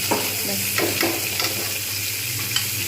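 Yardlong beans frying in a pan for a rui fish curry, with a steady close sizzle throughout and a few soft scraping stirs spaced across the short stretch.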